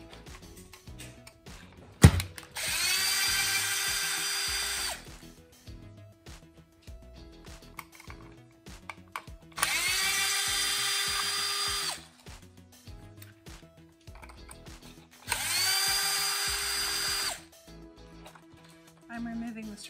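A power drill spins screws out of the skid plate on a Traxxas Slash 2WD RC car in three bursts of about two and a half seconds each, separated by quieter handling noises.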